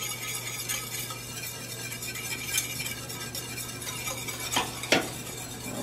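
Caramel cream sauce simmers in a pot while a utensil stirs it steadily, making soft scraping and bubbling sounds with a few sharper clinks against the pot. The sounds are fairly quiet and close.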